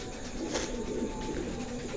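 A new adult pair of moulting pet pigeons coos steadily in a busy bird market, soft repeated throaty calls set against constant background bustle with no speech.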